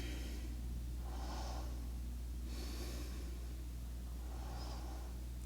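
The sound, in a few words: deep breathing during yoga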